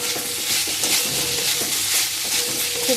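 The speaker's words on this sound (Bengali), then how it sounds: "এবার এর মধ্যে আমি কেটে রাখা টমেটোটা দিয়ে দিচ্ছি" Chopped tomato frying in a good amount of hot oil in a wok, a steady broadband sizzle with faint stirring scrapes, close and continuous without talk.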